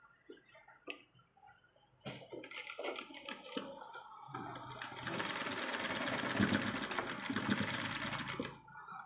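A sewing machine starts with a few slow ticks and then stitches in a steady, fast mechanical rattle that builds and holds until near the end, close and fairly quiet.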